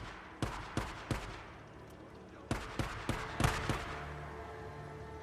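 Gunfire from bikers in Days Gone, fired as they shoot at each other, comes as sharp separate shots in two clusters of three or four, each cracking out and fading into a quiet background.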